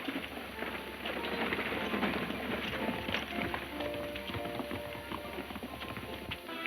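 Horses galloping in a steady drumming rush of hooves, loud and continuous, with a rumbling wash of movement underneath.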